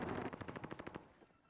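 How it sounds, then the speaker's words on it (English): A rapid burst of automatic gunfire in the video game Call of Duty Warzone, about a dozen quick shots in an even rhythm, moderately distant, then tapering off into quiet. "Here's some gunshots down low, looking to instigate this affair."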